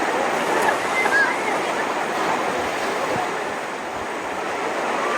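Mountain valley stream in Sapa, Vietnam, rushing steadily with broad, constant water noise, close and fairly loud, with faint voices in the background.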